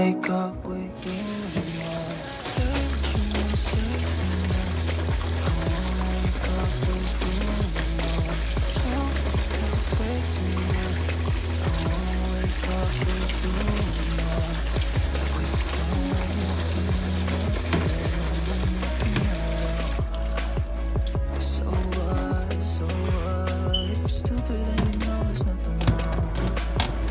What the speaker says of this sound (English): So after removing the stems from the pepper, I'm just going to go ahead and wash the pepper.